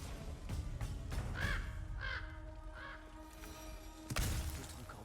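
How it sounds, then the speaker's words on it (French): Crows caw three times in a quiet outdoor scene in the video game God of War Ragnarok, followed by a sharp crashing impact near the end, all fairly faint and without speech. "D'autres corbeaux."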